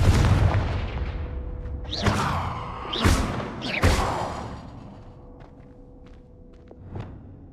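The Confringo fire spell from Hogwarts Legacy bursts out as a series of loud booming explosions, three big blasts in quick succession, then fading rumble and a lighter thump.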